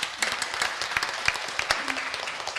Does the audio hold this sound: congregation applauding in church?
yes